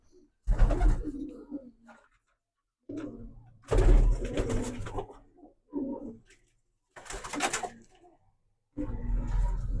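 Pigeons coo close by in several deep, throaty bursts, with short quiet gaps between the calls.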